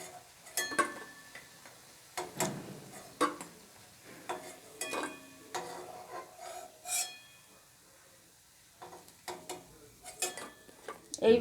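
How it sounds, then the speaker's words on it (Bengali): Crispy fried flattened-rice pakoras are lifted from the pan, giving light, brittle crunches, clicks and clinks of utensils in scattered quiet bursts, with no voice heard. "বন্ধুরা আওয়াজ শুনেই বুঝতে পারছেন কীরকম মচমচে হয়েছে।"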